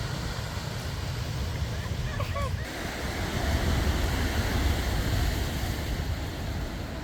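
Ocean surf near a hotel on Madeira at sunset, a continuous wash of breaking waves and wind rumble, swelling louder midway, with faint voices briefly present.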